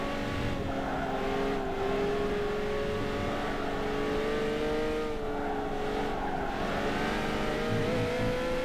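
A Peugeot 908 HDi FAP race car at Circuit de la Sarthe accelerates steadily, its engine drone rising continuously and loud over several seconds with no talk.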